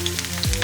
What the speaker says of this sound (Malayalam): തേങ്ങാക്കൊത്ത് മൂത്ത് കഴിയുമ്പോൾ ഇതിലേക്ക് 3 ടേബിൾ സ്പൂൺ ഇഞ്ചി ചോപ്പ് ചെയ്തതും 3 ടേബിൾ സ്പൂൺ വെളുത്തുള്ളി ചോപ്പ് ചെയ്തതും ചേർക്കുക.